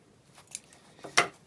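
Scissors snipping loose sewing threads at a buttonhole while making a shirt: a couple of small quiet cuts followed by one crisper snip, close and isolated.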